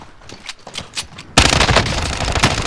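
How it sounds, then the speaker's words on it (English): Warzone gunfire, a few scattered distant shots that give way to sustained loud rapid bursts close by, dense and continuous to the end. "You're getting shot at."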